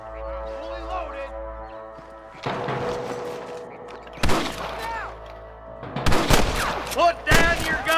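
Several loud, sharp gunshots crack in bursts over video game background noise and music in Red Dead Redemption, some shots coming in quick succession.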